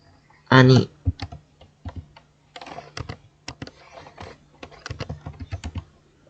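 A computer keyboard clatters in quick, irregular bursts of close keystrokes as a command-line entry is typed, with a brief voice at the start and a final press of the enter key.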